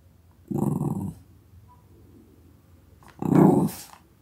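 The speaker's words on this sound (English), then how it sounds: "that was a bark." A dog barks on command: two low, gruff, growly woofs about three seconds apart, close and fairly loud, with near silence between them and no talking over them.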